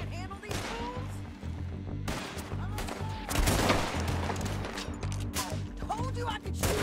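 Dense gunfire from a Red Dead Redemption 2 shootout, with rapid overlapping shots, continuous and loud throughout, in a chaotic firefight backdrop.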